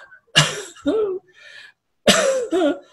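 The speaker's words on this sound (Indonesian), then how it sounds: "Ada batuk misalnya" Two bursts of close, harsh coughing, each a pair of sharp coughs separated by a short pause.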